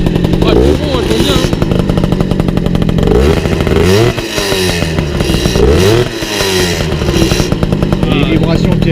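A cold Motobécane custom moped engine runs steadily after starting, with a loud, close buzzing two-stroke drone and some uneven revving and clatter, while voices talk over it.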